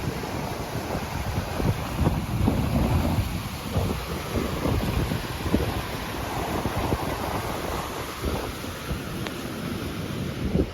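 A river rushes through a mountain valley on the Athabasca Pass trail, a dense, steady roar of flowing water mixed with wind.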